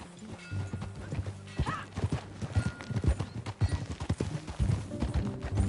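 Horse hooves in the video game Red Dead Redemption 2, a continuous close clip-clop of a ridden horse at a brisk gait, heavy and uneven, with a short whinny early on.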